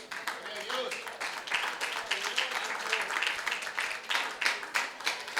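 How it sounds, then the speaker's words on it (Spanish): Scattered applause from a church congregation standing for Jesus Christ during a Spanish-language service, a steady patter of clapping with shouts and voices mixed in throughout, moderately near. "denle un fuerte aplauso a Jesucristo"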